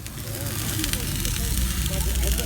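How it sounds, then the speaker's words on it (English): Grease sizzling and crackling on a grill at an outdoor car meet, a dense continuous hiss heard close up with low background rumble. "Look at the grease sizzling down in that corner."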